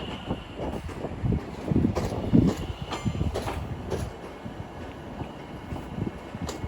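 Train at Watford Junction station on the West Coast Main Line, a moderately loud rumble with irregular clattering and wheel knocks rising and falling, with some wind buffeting across the microphone.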